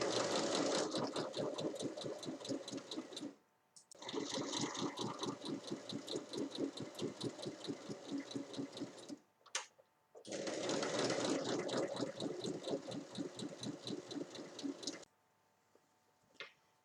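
A sewing machine stitches around a fabric storage basket in long, fast bursts of rapid needle chatter, close up, with short pauses between seams and no one speaking.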